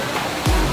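Water rushes continuously at a waterfall restaurant where the tables and buffet stand in the flowing water, a loud steady wash with a brief louder surge partway through.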